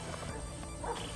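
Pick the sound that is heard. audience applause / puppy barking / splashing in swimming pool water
puppy barking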